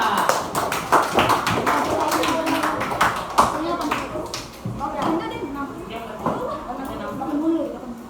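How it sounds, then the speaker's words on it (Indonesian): Students in a classroom clap for themselves, a lively burst of close, uneven hand claps under a teacher's voice and children's chatter, thinning into scattered claps as the talk goes on. "Beri tepuk tangan untuk kalian semua."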